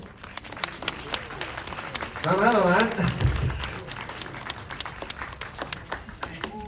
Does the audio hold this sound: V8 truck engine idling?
no